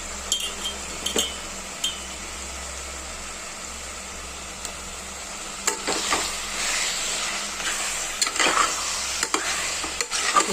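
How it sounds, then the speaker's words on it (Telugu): Washed chicken is stirred into masala, chilli powder and salt frying in a pan, with a continuous sizzle, scraping stir strokes and occasional utensil clinks close by. "ఇది చికెన్ని వేసిన తర్వాత కొంచెం బాగా కలుపుకోవాలండి."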